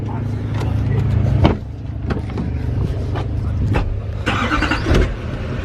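A Ram 1500 truck runs on a drag strip, its engine droning low and steady inside the cab with sharp clicks and knocks, while voices speak over it.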